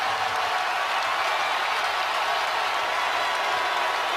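Crowd cheering in an arena at a Duke Blue Devils versus Virginia Cavaliers college basketball game, a steady dense roar of voices and applause that holds at full loudness throughout.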